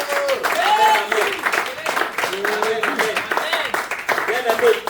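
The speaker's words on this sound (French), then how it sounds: "Je veux qu'on acclame la parole de Dieu." Congregation applauding during a church service, a dense spread of clapping with a voice talking over it.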